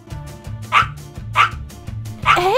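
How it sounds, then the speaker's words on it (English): A dog barks loudly in a game scene, three sharp barks spaced about half a second apart over steady background music, the last one trailing into a rising whine. "Go around the corner and bark."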